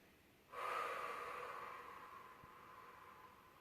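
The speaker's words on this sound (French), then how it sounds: "Et on respire." One long, breathy exhale during a standing Pilates strengthening exercise, starting abruptly and slowly fading over a few seconds in a quiet room.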